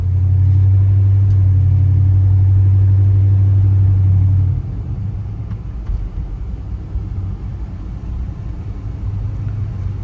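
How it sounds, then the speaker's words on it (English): A 1955 Ford Crown Victoria Skyliner with a 272 Y-block V8 rumbles steadily as it drives, loud low drone at first, then dropping to a softer, rougher hum. "we're going to take this 1955 Ford Crown Victoria for a test drive"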